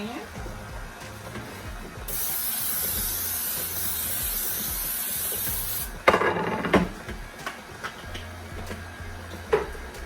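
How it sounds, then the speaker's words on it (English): Cooking spray hisses steadily into a 9 by 13 cake pan for about four seconds, a bright continuous spray, followed by scattered knocks and handling sounds; faint voice in the background. "I'm gonna go ahead and spray the pan."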